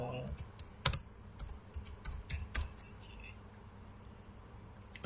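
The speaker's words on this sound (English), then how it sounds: "តាមទៅយើងវាយពាក្យ sudo" Keys clatter on a computer keyboard as a Linux command is typed, a quick irregular run of crisp clicks with one louder tap early on, close and fairly quiet in a still room.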